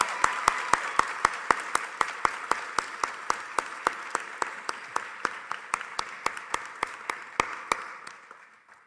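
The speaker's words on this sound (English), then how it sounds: "Let's do one more applause for Preston." Commencement audience applause for a speaker, a soft crowd clapping bed punctuated by one loud, close, regular clapper striking about three times a second, tapering off at the end.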